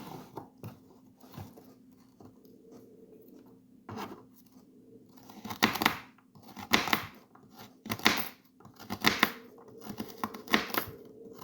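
Crisp knife chops slicing through a handful of regular baby carrots on a board, sparse at first then a run of sharp, close cuts in steady rhythm, no talking.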